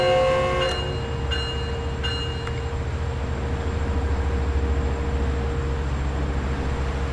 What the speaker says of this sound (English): The ambient noises are actually really nice in this train